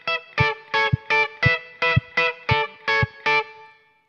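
Electric guitar with distortion and effects plays an interlude as fragmented chord shapes, about ten short, evenly spaced chord stabs with brief gaps, loud and alone, ringing out at the end.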